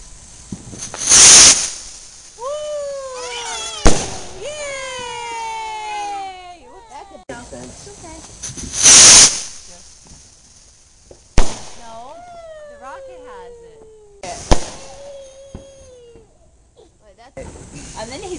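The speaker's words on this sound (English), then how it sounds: "Right, the rocket had to get so loud." Fourth of July fireworks rockets whistle up with rising and falling shrieks, followed by sharp loud bangs and bursts, repeating several times outdoors.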